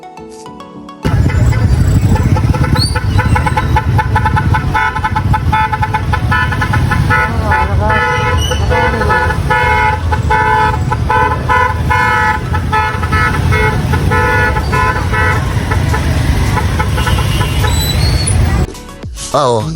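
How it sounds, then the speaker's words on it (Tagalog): A tricycle horn in heavy traffic on the road to Tagaytay gives a loud, continuous, warbling toot, sounding close over engine noise for most of the clip before cutting off. "may maririnig ka pang ganitong tumutunog sa tricycle"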